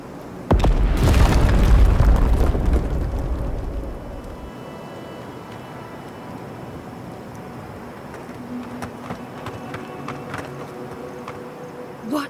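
A huge explosion tears through a mine in the video game Avowed, opening with a loud, deep boom that rolls and rumbles for several seconds before settling into a quieter ambient hum with faint scattered debris sounds.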